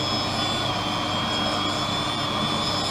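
A lens edger wheel grinds a safety bevel onto the concave rear surface of a prescription lens for Ray-Ban 2132 New Wayfarer glasses, a steady, unbroken whine.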